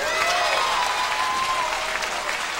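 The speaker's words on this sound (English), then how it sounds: "a nice ovation from the crowd as well" A crowd at the 1994 Illinois high school state boys' 1-meter diving finals applauds a dive, dense, steady clapping filling the whole stretch with no voices on top.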